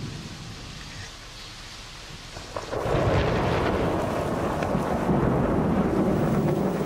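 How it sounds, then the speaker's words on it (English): Deep thunder rolls in during a heavy Sri Lankan monsoon storm, swelling into a loud, sustained rumble mixed with steady rain and wind buffeting the microphone after a quieter opening. "That's thunder. I don't like thunderstorms at all."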